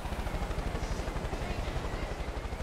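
A helicopter in the video game Far Cry 5 drones steadily with a fast rhythmic rotor chop, loud and continuous throughout.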